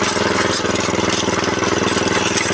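Grass-cutting machine engine running in first gear, a steady, loud, close mid-pitched chugging drone with an even rapid pulse, running alone without talk.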